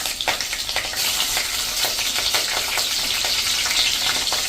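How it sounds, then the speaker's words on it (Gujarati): Whole spices and chopped green chillies frying in oil for a Gujarati undhiyu, a steady loud close sizzle with crackling pops throughout and no talk. "અને હવે આ બધો મસાલો સેજ આપણે તેલમાં કૂક કરશું."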